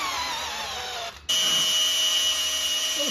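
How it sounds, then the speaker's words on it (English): A power drill in reverse turns an oil pump priming tool on a Mopar 440 big block engine, whining steadily at high speed, briefly pausing and then resuming at a slightly different pitch, loud and close. "Drill, priming tool, in reverse, because big block."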